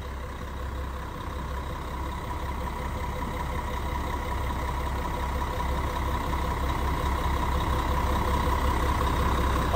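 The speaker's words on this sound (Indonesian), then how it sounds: "Kita dengerin suara mesinnya ya. Suara mesin 1836 tuh enak." A Gunung Harta intercity bus with a 1836 engine idles at a roadside restaurant stop in Tuban, giving a steady, continuous low rumble with a faint hum that holds even throughout.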